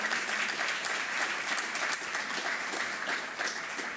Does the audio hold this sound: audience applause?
yes